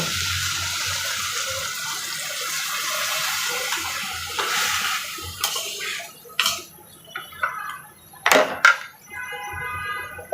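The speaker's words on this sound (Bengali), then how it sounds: "এখানে এই পর্যায়ে আমি একটু পানি দিয়ে দেব।" Water poured into a pan of curry on the stove, a steady running splash that gives way to a few brief louder bursts and clatters near the end.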